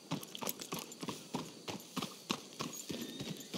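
Horses clip-clop at a steady walking rhythm in the video game Red Dead Redemption 2, with repeated hoofbeats fairly close and moderately loud, with no talking over them.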